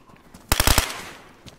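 A short, loud burst of about six rapid gunshots from a video game in which players shoot zombies, fired close against a quiet background.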